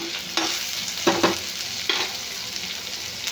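Egg fried rice with mint and coriander fries in a pan, a steady sizzle with a few scraping stirs of the spatula, close and moderately loud, no talk.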